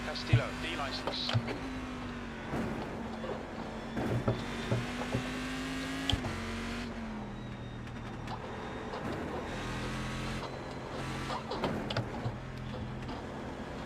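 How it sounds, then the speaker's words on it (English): A race car engine in a racing video game drones at a steady pitch with small rises and falls, heard under nearby talking at moderate loudness. "Great noise from the car though, isn't it?"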